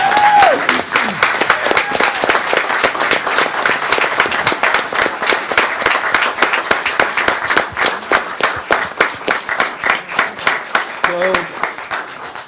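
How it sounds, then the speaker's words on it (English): A city council meeting audience in Plainfield applauds during a proclamation ceremony. Steady clapping from a modest crowd holds for about twelve seconds, individual hand claps distinct and thinning toward the end. "Please join me in applause."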